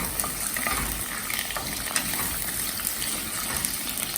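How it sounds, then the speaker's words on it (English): Ginger, chillies and bay leaf fry in hot oil for khichdi, giving a dense, steady sizzle close to the microphone, with light scraping as they are stirred and no voices. "Then put ginger, chillies, tej patta. Then stir it a little bit."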